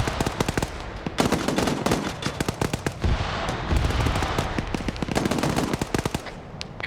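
A Mark 19 grenade launcher in a military video game fires in rapid repeated bursts, loud close thumps and blasts chaining together with dense rumbling impacts and brief pauses between volleys.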